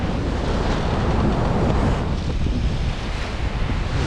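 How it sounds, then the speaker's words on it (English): Ocean waves slap against the hull of a sailboat crossing the Pacific, a loud, continuous wash of water mixed with wind rushing over the microphone, with no voices. "when the water and the waves hit, it is loud"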